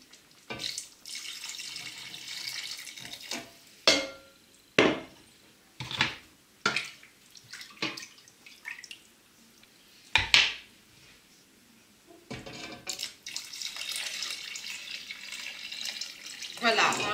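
Water from a kitchen tap runs into a cooking pot for beef bourguignon with peas, splashing in several bursts broken by clanks of the pot and utensils, with speech between the pours.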